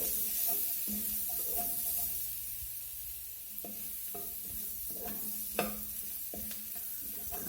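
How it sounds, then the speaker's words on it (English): Flour being stirred into a hot pan of fat for a thickening roux while cooking smothered pork chops, with a steady close sizzle and repeated scraping stirs of the spoon, no voices. "Put a little flour in here. A little thickening roux."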